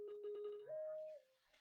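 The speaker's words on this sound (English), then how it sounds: "And of course, my phone rings." A phone rings with a short repeating electronic tone, then a longer held note, fairly clear and close, no talk over it.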